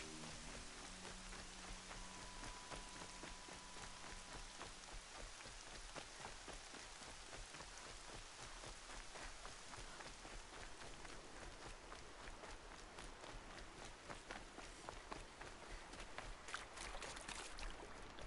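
Rain in the video game Horizon Zero Dawn falls steadily with a dense patter of drops on surfaces, continuous and fairly faint throughout, without any voices.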